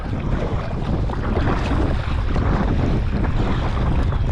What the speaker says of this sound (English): A little windy today, as you can tell.